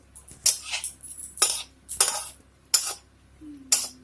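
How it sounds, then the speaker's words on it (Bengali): A spatula scrapes and clinks against a pan as bay leaves and other ingredients lightly fry for a moong dal and bottle gourd dish, in five sharp, evenly spaced bursts separated by near silence. "এগুলো দিয়ে এখন একটু হালকা করে ভেজে নেব একটু ভেজে নিচ্ছি"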